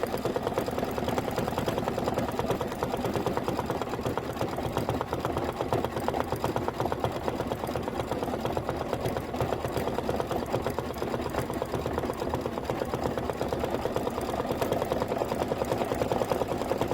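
An embroidery sewing machine stitching a table-topper design, a steady rapid mechanical whirring hum that runs alone without pause and without talk.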